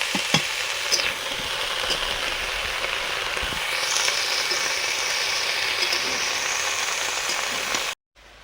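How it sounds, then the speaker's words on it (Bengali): Cut bottle gourd stalks, potato and eggplant fry in a pan with a steady, close, loud sizzle and occasional stirring scrapes for about eight seconds before cutting off abruptly. "লাউ ডাঁটা আলু বেগুন একসঙ্গে কেটে ধোয়া দিয়ে দিলাম।"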